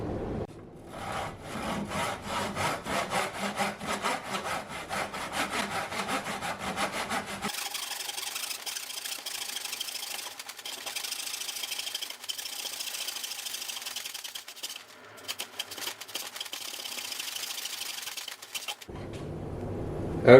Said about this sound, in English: I'm going to show you what it looks like sawing through.